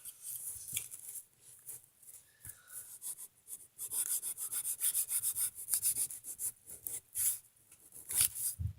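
A Norton hunting knife's saw-backed blade rubs and rasps through paper in a run of close, scratchy back-and-forth strokes that grow denser and louder midway, alone without talk.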